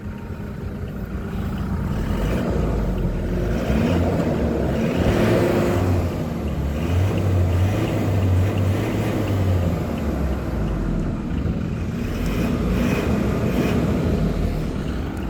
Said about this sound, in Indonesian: Kita denger suara mesin yuk, biar kalian tahu suara mesin 2GD FTV non IR.